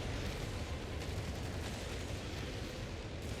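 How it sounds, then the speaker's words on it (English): Satchel charges thrown by engineers explode in a battle in the strategy game Company of Heroes 3, a dense continuous rumble of blasts and gunfire layered together without any speech. "Another satchel being thrown by the engineers, just trying to cause as much explosions as possible to push things back."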